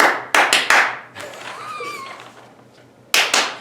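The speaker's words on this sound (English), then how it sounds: "You always gotta wait for a clap." Several sharp hand claps ring out near the microphone, three quick ones at the start and two more after a pause, with faint voices between.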